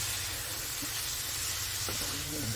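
Peppers and smoked sausage fry in a pan with a steady, dense sizzle and hiss as liquid from the peppers cooks off, a faint occasional scrape of stirring underneath.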